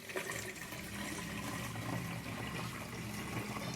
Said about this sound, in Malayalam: അരിച്ചൊഴിക്കുക, ഫിൽട്ടർ ചെയ്യണം.